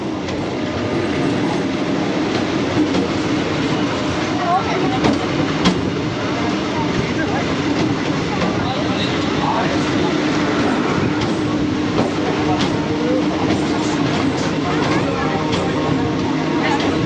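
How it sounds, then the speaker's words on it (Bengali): A passenger train runs along the tracks toward Sealdah, a loud continuous rumble with rhythmic clickety-clack of wheels over rail joints, close by throughout, with faint voices mixed in. "শিয়ালদা যাচ্ছে ট্রেনটা।"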